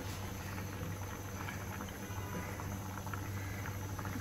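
A mixed fish curry simmers on the stove, giving a soft, continuous bubbling patter with a low hum underneath and no voices.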